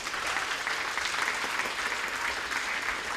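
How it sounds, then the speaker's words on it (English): An audience at a national school debate final applauds a secondary school speaker, a steady dense crowd clapping that stays level for a few seconds. "Round of applause for the third speaker of Tei Abal Secondary, Nathan Morley."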